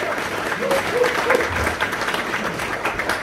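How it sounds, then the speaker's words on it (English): A crowd at an evening Scottish folk music concert applauds a folk band with steady, moderately loud clapping, and a few voices come through underneath. "Give them a round of applause."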